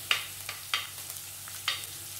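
Finely chopped garlic frying in oil for chicken fried rice, a steady soft sizzle with several sharp stirring scrapes spaced through it, close and moderately quiet, no talking.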